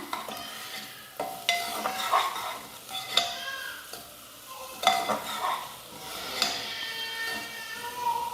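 A spoon stirs sliced onions with salt in oil in a cooking pan, giving repeated scraping and clinking strokes over a soft sizzle in an uneven, unhurried rhythm.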